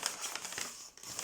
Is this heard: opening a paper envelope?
yes